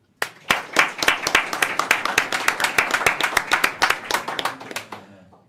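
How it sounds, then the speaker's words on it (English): A small conference audience at the Qubes OS Summit claps for sponsors, a burst of brisk, distinct handclaps rising quickly, holding for several seconds, then thinning out. "So huge applause for them."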